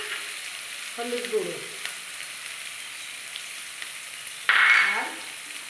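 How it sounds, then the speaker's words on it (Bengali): Ginger paste and spices for a small-shrimp malai curry sautéing in a pan, with a soft steady sizzle, a couple of stirring scrapes and a louder hiss around the middle, under a brief spoken phrase. "এবার এটাকে আমি একটু কষিয়ে নেব"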